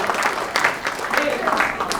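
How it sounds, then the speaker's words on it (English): Audience applause at a commemoration of 164 years since Indian indentured labourers arrived in KwaZulu-Natal: a steady two-second wash of clapping from a crowd, with a little voice mixed in. "Another round of applause"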